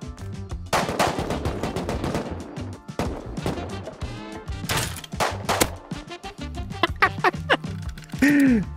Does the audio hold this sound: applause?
no